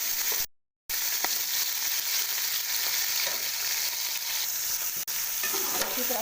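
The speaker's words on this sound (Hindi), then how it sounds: "इसी तरह इसमें डाल देंगे और हल्की आंच पे इसको थोड़ा सा फ्राई करेंगे" Small pieces of chicken sizzle steadily in a pan over low heat, a close, even frying hiss that runs unbroken apart from one brief silent gap near the start, with no talk over it.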